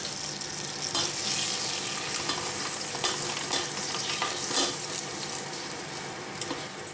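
Chili powder and garam masala stirred in a hot pan for tarka daal, a dense steady sizzle with repeated scraping strokes of a spoon, close up and alone.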